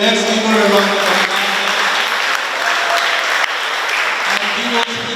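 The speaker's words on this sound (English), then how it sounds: "Let's give her a round of applause." An audience at an education week ceremony gives a keynote speaker a round of applause, steady dense clapping from many hands filling the room while a voice speaks over it.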